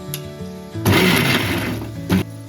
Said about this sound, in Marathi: तोपर्यंत मी एक वाटण वाटून घेते